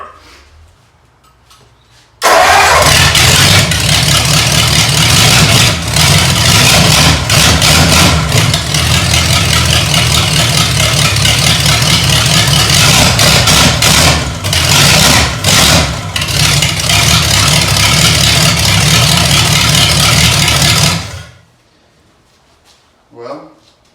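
Vintage engine mounted on a run stand with old-school zoomie headers fires up abruptly and settles into a loud, steady, throbbing idle for about twenty seconds, with a few brief dips, before cutting off.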